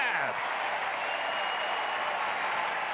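A baseball crowd at a Minnesota Twins versus Kansas City Royals game applauds a sliding catch in right field, a steady, dense wash of clapping and cheering that holds evenly throughout.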